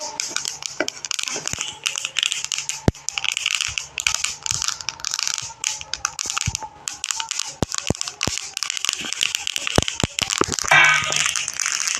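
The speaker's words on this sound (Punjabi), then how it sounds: "ਆਪਣੀ ਚਟਕ ਚਟਕ ਦੀ ਆਵਾਜ਼ ਆਉਣ ਲੱਗ ਪਈ ਆ" Sharp, irregular pops and crackles of flaxseeds roasting in a hot pan, scattered clicks over a sizzling hiss.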